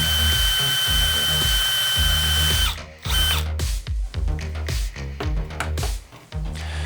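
A power drill boring a hole in a Gatling gun part for a scratch-built combat robot, a loud close whine at first, then repeated bursts of drilling with stops and ratcheting clicks.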